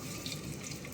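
Sliced onion goes into hot oil in a pan for an egg curry, giving a steady, close, broadband sizzle that hisses evenly throughout with no talking.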